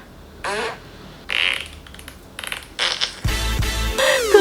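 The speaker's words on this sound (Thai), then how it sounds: "เปิดเสียงตด อย่างนี้นะคะ" A fart sound effect is played as a prank: a series of short, loud bursts of squeaky, sputtering and rasping noise, separated by brief pauses, ending with a longer, louder blast, close and without talking.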